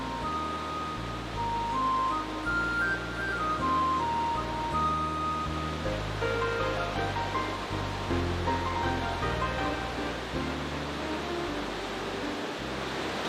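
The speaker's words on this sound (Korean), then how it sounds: "울창한 숲 사이를 뚫고 시원하게 흐르는 폭포가" A waterfall pours through dense forest in Sichuan, a steady broad rush heard throughout while a melodic music track plays over it.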